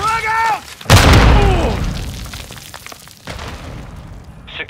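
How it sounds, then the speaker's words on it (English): A single heavy grenade explosion in a video game lands close and loud right after a brief voice callout, with a deep boom that rolls off into a fading rumble and scattered debris. "Throwing grenade!"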